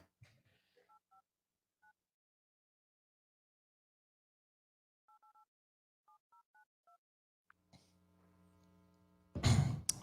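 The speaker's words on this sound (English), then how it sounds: "Phone's ringing." Telephone keypad tones beep in short clusters as a number is dialed, separated by quiet gaps, followed by a faint hum and then a sudden loud burst as the call connects, heard in a radio show studio setting.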